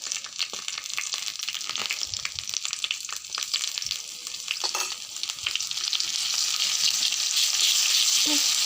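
Ginger garlic paste frying in a pan, a continuous crackling sizzle with scattered scraping stirs, growing louder and denser toward the end, no voices.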